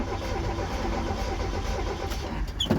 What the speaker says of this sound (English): you're gonna go inside and you're gonna crank your engine